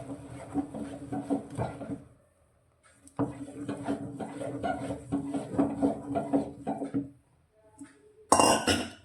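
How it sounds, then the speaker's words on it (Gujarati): Millet flour dough being stirred in a metal pot, with steady scraping and clinking of a spoon against the sides in two long bursts separated by a short pause, and a sharper clatter at the very end. "આ રીતે આપણે થોડો થોડો જ એડ કરવાનો છે અને આ રીતે હલાવતા જવાનું છે।"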